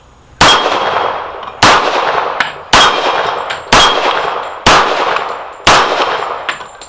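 Six pistol shots from a restored Colt .45, each a sharp crack followed at once by a bright metallic clang of a steel target plate ringing and decaying, spaced about a second apart, loud and close with no talking.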